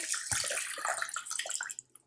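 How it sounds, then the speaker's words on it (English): Water pours into a pot holding about two pounds of chicken breast for Cuban-style vaca frita de pollo, a splashing, gurgling stream lasting under two seconds before it stops, close and alone without talk. "I am going to add my water."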